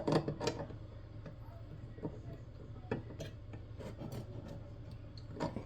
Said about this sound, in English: we're going to try my little channel locks instead of the crescent this time to tighten the